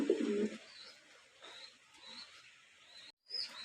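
Lahori pigeons coo softly in a loft, low throaty calls recurring over a faint background hiss, close but quiet, without voices.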